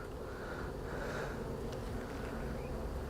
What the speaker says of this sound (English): Quite a few bees up here on the lid.